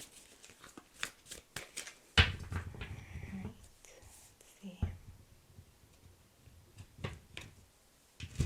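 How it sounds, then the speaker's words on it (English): Tarot cards shuffled by hand, giving scattered close flicks and riffles with a sharper thump partway through, while soft speech passes briefly between the card sounds. "Getting a little better with my shuffling."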